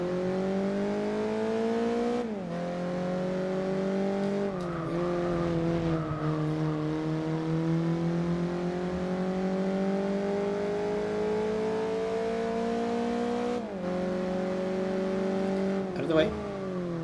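Racing car engines from Gran Turismo 4, a steady droning whine that climbs in pitch through each gear and drops sharply at shifts, continuous and close, with a brief squeal near the end.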